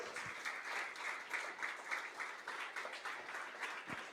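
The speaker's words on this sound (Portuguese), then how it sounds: "Você pode aplaudir ao Senhor?" A church congregation applauds in worship, a steady dense patter of many hands clapping in slightly pulsing rhythm, moderately distant and without talk.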